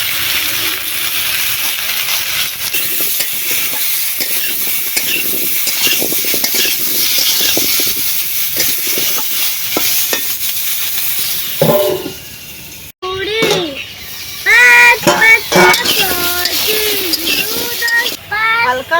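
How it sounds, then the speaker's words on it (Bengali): Raw banana and potato pieces fry in oil in a kadai over a village fire, with a loud continuous sizzle and repeated scraping stirs, followed by a few brief tonal sounds near the end. "করে কলা আলু তেলে নেড়ে নিয়েছি"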